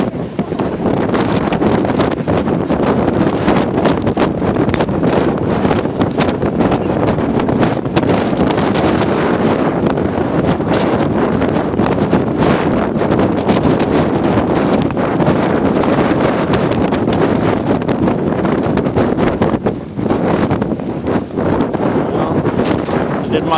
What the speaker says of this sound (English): that wind's strong out there